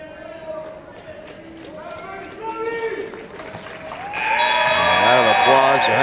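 Crowd applause at the 2024 4A boys wrestling regional championships in Tonganoxie: a moderate clapping din under a man announcing over the loudspeaker, swelling into a louder, fuller burst of cheering for the final two seconds.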